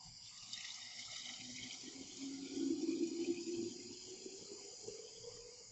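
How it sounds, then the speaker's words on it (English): Tap water runs steadily into a glass Erlenmeyer flask, filling it toward one liter, with a broad hiss and splash that swells slightly midway and carries on without pause. "now I'm going to bring it up to 1 liter using tap water"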